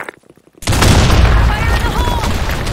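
A grenade explosion in a video game bursts in as a sudden loud boom after a brief quiet moment, followed by a rumbling, crackling tail.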